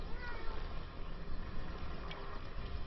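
A house cat meows faintly during an esports match broadcast, its brief calls half-buried in a steady wash of low background noise with no clear speech.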